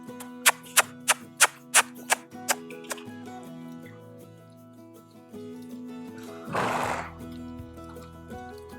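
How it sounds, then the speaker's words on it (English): A horse trotting under a rider: seven crisp, evenly spaced hoof clops ring out up front, then fade into a sustained tonal, whinny-like sound and a brief noisy rush. "Loving that trot."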